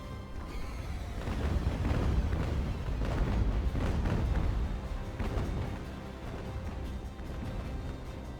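Naval cannons fire in Ultimate Admiral: Age of Sail, sending a rolling series of deep booms and rumbling blasts that overlap into a sustained bombardment before thinning out toward the end.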